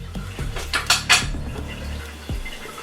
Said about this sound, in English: Just going to scrape that bit of cream in there like so.